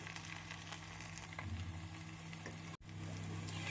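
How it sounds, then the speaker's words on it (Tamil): Mutton kola balls frying in hot oil over a medium flame, a steady soft sizzle with faint crackles and bubbling, briefly cut off for a moment before resuming. "கொல உருண்டை போட்டு நாம் திருப்பி விட்டு மூன்று நிமிடம் மிதமான தீயில் வைத்து எடுத்து விடலாம்"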